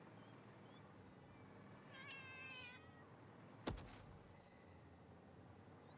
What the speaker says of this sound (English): hearing the meows is genuinely terrifying.